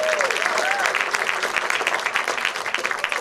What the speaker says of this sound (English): give everyone in here a round of applause for being small